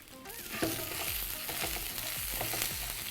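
Curry leaves dropped into hot oil with fennel seeds, giving a bright, busy crackling sizzle that stays steady and close for a few seconds, with faint stirring thumps beneath and no talking.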